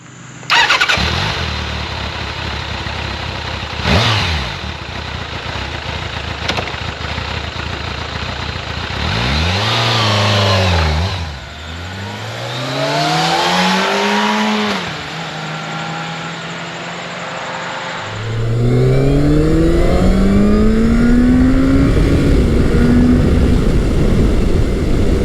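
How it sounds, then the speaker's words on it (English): A classic Kawasaki superbike engine fires up and revs, then accelerates hard through several gears, each rising whine cut by a shift, ending in a loud high-speed pull. "Let's see what it's like to ride."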